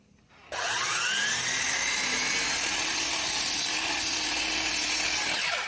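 A miter saw set to a 1.5-degree angle cuts through a wooden board for a tapered column build, starting abruptly and holding a loud, steady, close-up whine for several seconds before winding down.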